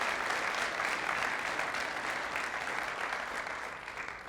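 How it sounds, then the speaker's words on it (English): A crowd at a CVCC signing day event for welding students claps in steady, even applause that holds at a moderate level and fades slightly at the end. "So, I wanted to give him a big round of applause."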